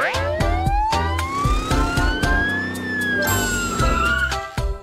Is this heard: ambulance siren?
yes